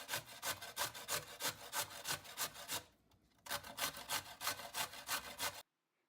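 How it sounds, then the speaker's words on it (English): Beets rasped over a hand grater in quick, rhythmic back-and-forth strokes, close and loud, with a brief pause midway and an abrupt stop near the end; no voices. "And we're going to grate it. Here we're using a hand grater."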